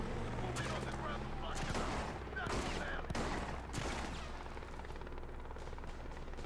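Gunfire from a sniper in the video game The Bourne Conspiracy cracks in several sharp bursts amid a rumbling helicopter drone, with loud impacts spread over a few seconds.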